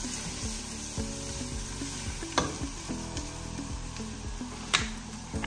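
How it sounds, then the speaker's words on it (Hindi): Noodles fry in a pan as vinegar, soy sauce and chili sauce go in, a soft continuous sizzle punctuated by regular stirring knocks and two sharper clacks against the pan. "इसमें आप डालेंगे जी vinegar soya sauce and chilli sauce"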